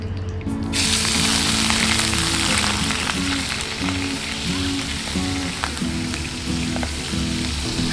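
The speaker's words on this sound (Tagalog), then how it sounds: "I will fry first my shrimps" Shrimp fry in hot oil in a pan for Indonesian fried rice, a loud, close, continuous sizzle that bursts on abruptly and holds steady with a low hum underneath, no voices.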